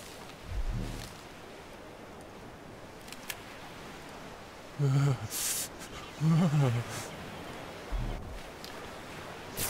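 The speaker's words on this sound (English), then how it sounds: "The sound you hear is me being really cold" A cold, shivering character in ARK: Survival Evolved gives a few short voiced grunts in the middle of the clip, over a steady rustling hiss of in-game ambience.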